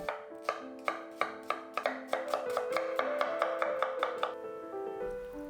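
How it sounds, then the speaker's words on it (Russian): A knife finely chops a large onion rapidly and evenly on a board, a quick run of a dozen or so crisp strikes over soft background music. "а тем временем мелко нарезаю одну крупную луковицу"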